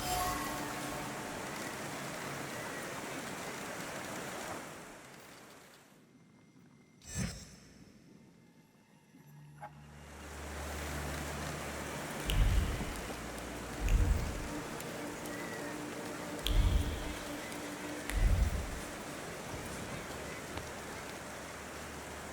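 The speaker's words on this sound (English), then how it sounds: "And now it starts to rain." Steady rain in the video game The Thaumaturge patters and hisses on a surface, briefly dropping out midway, with a few low thuds and puffs of breath over the downpour.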